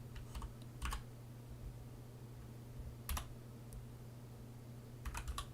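A KEMOVE DK61 keyboard being typed on during live coding, with a few separate short bursts of crisp key clicks spaced apart over a low steady hum.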